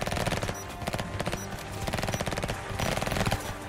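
Dense gunfire in a police video game, with rapid automatic bursts rattling almost without pause, loud and continuous.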